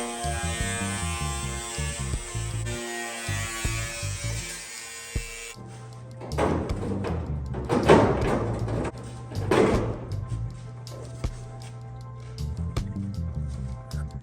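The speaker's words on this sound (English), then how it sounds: "This is fiberglass, might as well just start cutting and we'll go from there" A power tool cuts into the fiberglass body of a bodydropped dually truck, a steady high-pitched whine for about five seconds and then several bursts of rougher, louder cutting.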